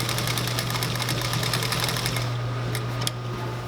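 A sewing machine stitches fabric for a box X stitch, a fast, steady mechanical chatter close up that runs continuously, then slows and stops with a couple of final clicks near the end.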